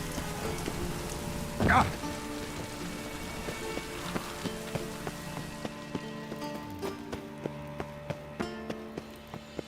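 Steady rain falls in The Witcher 3, a soft constant patter on the ground with scattered sharper drops, while a character speaks briefly near the start.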